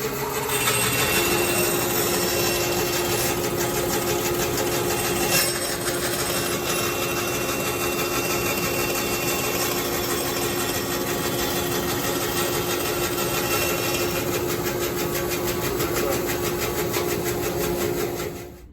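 A bandsaw cuts a line through a shop-made wooden sled, a steady loud whirring drone that runs for about eighteen seconds before cutting off, with no talking.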